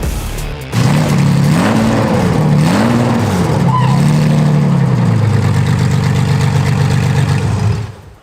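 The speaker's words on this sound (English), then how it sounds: "All right, the Ferrari's running way better." A Ferrari Testarossa engine, abandoned and long unused, runs after a fuel leak repair. It is a loud, close rumble that rises and falls in uneven revs, then holds a steadier drone before cutting off.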